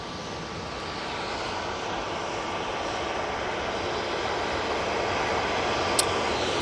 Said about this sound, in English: TUI 737-800 coming on now